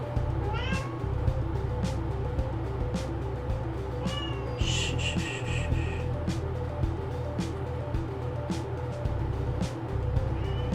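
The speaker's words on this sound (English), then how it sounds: "Oh, my cat screams at the door." A cat meows repeatedly at a door, with drawn-out cries spaced several seconds apart over a constant low background hum.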